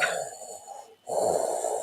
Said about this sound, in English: we kept hearing this heavy breathing coming through.